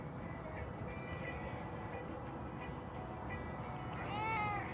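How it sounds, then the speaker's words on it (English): Golden cat meowing, its short faint cries rising above a steady rumbling background, with a louder drawn-out meow near the end. "I have the attention of the golden kitty cat."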